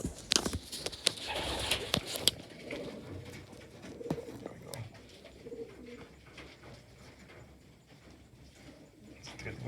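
Pigeons coo softly inside a loft during feeding after a three-hour loft fly, with low, repeated, rolling calls, a few sharp clatters and wing flutters near the start, and no talking.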